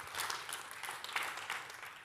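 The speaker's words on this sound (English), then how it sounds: "Big applause." Quiet, steady audience applause at a startup innovation forum, a soft continuous patter of many hands heard at a distance, with no talk over it.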